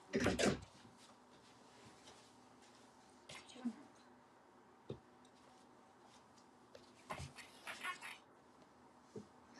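A door is eased partly open indoors, giving a few quiet clicks and soft knocks spread across a faint room background while a voice speaks.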